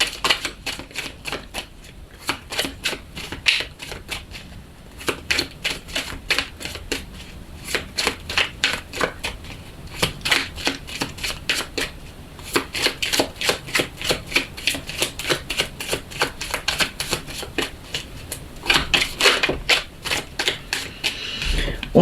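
Tarot cards are shuffled and cut by hand, giving a steady, close stream of papery riffles and flicks that goes on for the whole stretch with no talking.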